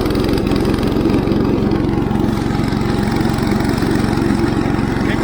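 A lawn mower engine runs hard and steady, close and loud, with the cutting deck lowered and the PTO engaged on a Virginia mountain hay farm.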